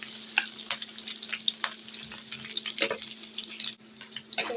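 Onion, garlic and chili frying in oil in a wok, a steady sizzle with scattered crackles and stirring clatters, close and alone throughout.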